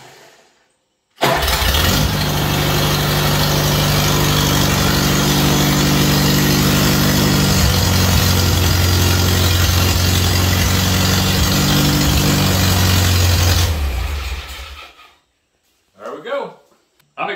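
A Farmall Cub tractor engine, newly converted from 6 to 12 volt, starts and runs loudly and steadily for about twelve seconds close by, then shuts off, followed by someone speaking.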